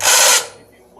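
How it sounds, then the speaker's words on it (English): A drill press boring into an engine cylinder head in an LS engine-building shop, a short loud burst of cutting noise lasting under half a second, then quieter workshop room tone. "We're drilling a cylinder head"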